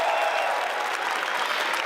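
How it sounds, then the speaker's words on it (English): A crowd at the Slush 2022 startup event founder stage claps and cheers, a thick, continuous burst of applause that stays loud and even throughout. "Get some noise as well. Come on, get the crowd going."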